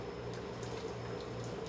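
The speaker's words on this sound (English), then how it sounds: "some hot water that I have already boiled in my kettle." Hot water, boiled beforehand in a kettle, is poured into a cooking pot of curried red beans, a steady, soft, continuous splashing flow at moderate distance.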